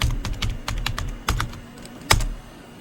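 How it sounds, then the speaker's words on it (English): Rapid, uneven bursts of typing on a computer keyboard while setting up a React and Tailwind CSS project, close and clear, with a few sharper key strikes and short pauses. "So let's go here and in source I'm going to create a new folder called components,"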